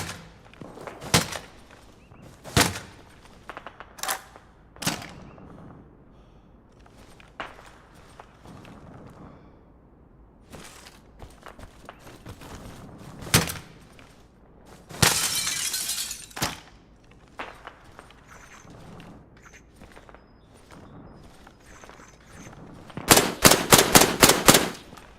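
Arma Reforger gunfire inside a building: a series of sharp individual shots spaced across the clip, with a loud rapid burst of automatic fire near the end, over a low ambient background with no talk.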